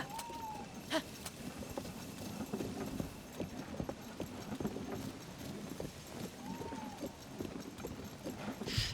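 Steady clip-clopping horse hooves in The Legend of Zelda: Tears of the Kingdom trot along at a quick rhythm, moderately quiet, with a couple of faint whistling tones in the background.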